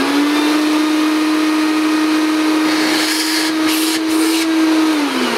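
A vintage Hoover S4256 Powerglide vacuum cleaner running steadily, a loud airy roar with a constant motor hum that drops slightly in pitch near the end.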